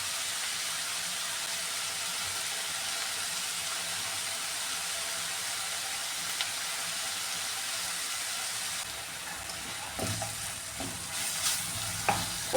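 Onions sautéing in a pan for bitter gourd thoran, a steady broadband sizzle filling the whole span, close and fairly loud, with a few stirring scrapes near the end and no talking.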